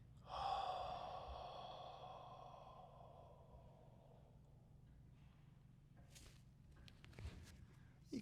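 A slow, steady exhale during a hip and lower-back yoga stretch, a soft breathy rush that swells near the start and then fades over several seconds in a quiet room.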